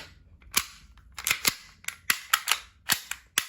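A fairly new WE G17 BB pistol fires about ten sharp, close shots in quick, uneven succession during test firing at a BB gun shop. Each crack is loud and brief, with no talk.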